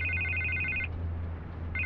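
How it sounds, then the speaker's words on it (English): A telephone rings in the Batman: The Telltale Series video game, an electronic two-tone trill in steady bursts separated by a short pause, clear over a low steady hum. "I can't get the phone to stop ringing."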